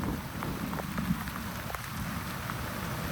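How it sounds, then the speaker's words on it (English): Steady rain patters down across a park during a walk, a dense, even wash of drops on surfaces with scattered nearby plinks, continuous and moderately loud with no voices. "And it's starting to rain again."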